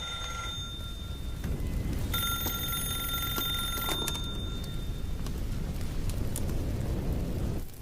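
A telephone rings in a scene from the Hindi-dubbed action film Toxic. Repeated bright electronic ring tones cut in and out over a loud, rushing, rain-like background.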